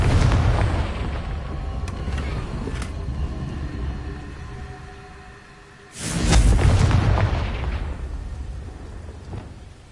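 A Confringo fire spell from Hogwarts Legacy goes off in a loud, rumbling blast around the six-second mark, following an earlier sustained roar that slowly fades.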